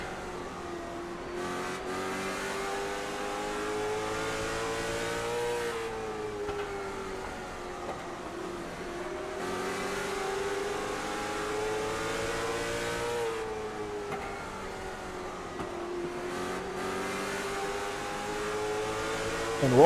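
Race cars in the SARA Impel National Tour scream around the track with a sustained high-pitched engine whine. The pitch rises and dips in waves as drivers accelerate and lift through the corners, and the roar stays steady and loud without any voices.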